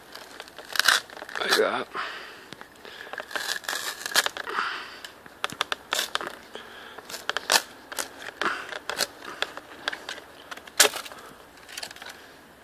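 Large sections of lime bark stripped by hand after cutting, during retting for cordage: close, irregular tearing and crackling rips in quick bursts, with a person talking over them.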